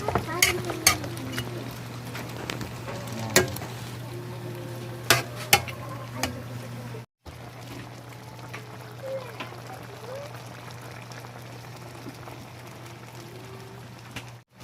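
Trevally fish simmer in sauce in a pan, giving a soft, steady bubbling sizzle with occasional utensil clinks and stirring, while a low hum runs underneath.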